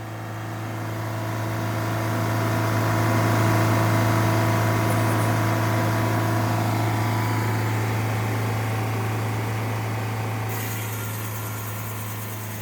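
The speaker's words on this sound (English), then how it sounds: "If you don't love the sound of that diesel engine" A Detroit Diesel 4-71 engine, restarted after two years idle, runs steadily nearby powering a Frick sawmill, a low droning hum with strong vibration that swells slightly and holds constant throughout.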